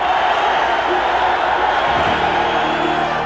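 A partisan home crowd in a boxing arena roars continuously, a dense sustained wash of cheering and whoops without pause.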